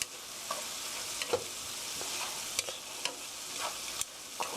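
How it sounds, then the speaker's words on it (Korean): Bulgogi beef with torn oyster mushrooms stir-fried in a pan, a steady broadband sizzle with soft scraping strokes of the utensil every second or so, close and moderately loud, no talking. "고루 살살 섞어서 느타리 버섯만 익으면 돼요"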